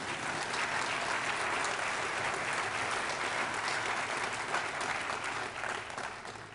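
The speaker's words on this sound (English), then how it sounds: "There should be some applause at this point." Sustained audience applause at a keynote address at the Slow Money national gathering, a steady dense wash of clapping from a large crowd that holds evenly for several seconds and eases slightly at the end, with no talking over it.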